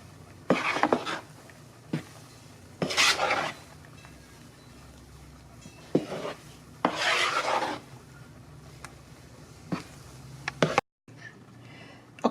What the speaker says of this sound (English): And just slowly mix it together. We don't want to use a mixer, just a spatula.